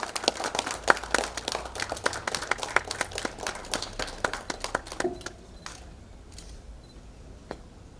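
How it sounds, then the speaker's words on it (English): An audience at an outdoor memorial event for an archbishop's first death anniversary gives a brisk round of applause, dense overlapping claps that taper off into a few scattered claps near the end. "Let us all have a round of applause."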